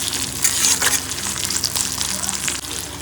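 Garlic and green unripe tomatoes frying in hot oil as a tempering for masoor lentils, a loud close sizzle with crackling bursts and occasional stirring scrapes, continuous for the whole stretch.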